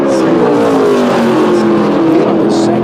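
SMART Tour modified race car at South Boston Speedway accelerating through a qualifying lap, a loud, steady engine drone with rising harmonic tones throughout, easing back onto the gas.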